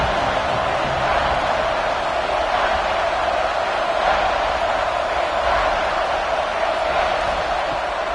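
Steady stadium crowd roar from a college football game on PS5, a dense, continuous wash of noise holding at an even level throughout without distinct cheers.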